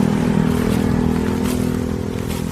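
A BX 3000 scooter rides along with a steady, continuous motor and road drone. It stays fairly loud and even throughout, with light rattling and no talk.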